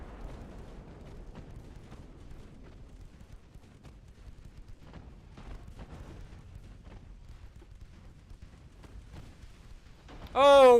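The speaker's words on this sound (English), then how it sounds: "Oh, we got an ammo detonation." A warship's ammunition magazine detonates in the naval battle game Ultimate Admiral Dreadnoughts, giving a long, deep, rumbling roar with scattered heavy thuds. It holds steady for several seconds and ends in a sudden louder burst.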